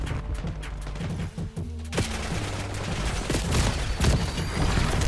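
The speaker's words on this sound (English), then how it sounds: "Oh, this grenade! These kids love their Semtexes." A Semtex grenade goes off in a Black Ops 6 Hardpoint match amid gunfire, with a jumble of shots up front, then a louder burst of noise that carries through the rest.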